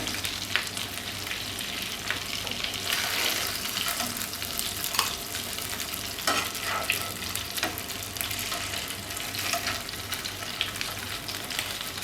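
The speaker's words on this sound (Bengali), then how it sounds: "মাছগুলো ভাজা হয়ে গিয়েছে এগুলোকে আমি এখন প্যান থেকে তুলে নেব" Fish pieces fry in oil in a pan, a loud, steady, close sizzle with crackling bursts and occasional scraping stirs running throughout, without talk.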